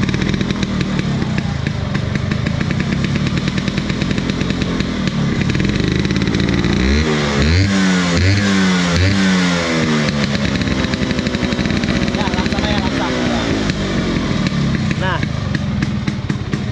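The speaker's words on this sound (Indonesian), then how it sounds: "Rosso ini pakai knalpot big box ala dan motor" A Rosso Excel motorcycle fitted with a custom big box exhaust revs loudly and close by. Its engine note swells and falls in repeated throttle blips, and someone talks over it.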